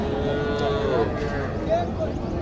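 A Sahiwal heifer moos at a busy cattle market in Naogaon, with low, drawn-out calls rising over a steady crowd hubbub and faint voices throughout.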